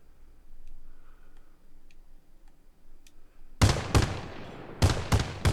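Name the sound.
LAV-25 main cannon firing, video game Arma Reforger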